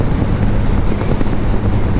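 Strong wind rushes over a Yamaha FZ-S FI V4 motorcycle while riding, a dense, loud, steady roar with a low droning rumble underneath and no talk.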